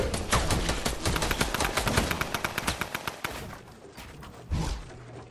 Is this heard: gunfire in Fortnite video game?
yes